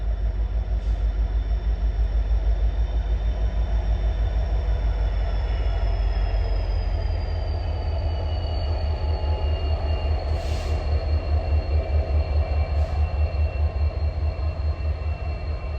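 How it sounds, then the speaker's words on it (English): Helper locomotives roll past near Staple Bend Tunnel, a loud, close passing train with a rhythmic wheel clatter, a deep engine rumble and a faint high wheel squeal throughout. "We have yet another train coming."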